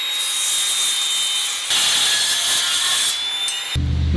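A carbide-tipped saw blade cuts into the flat bed of an XP camper, giving a loud, sustained grinding whine close by. Its tone shifts partway through, and it changes again near the end.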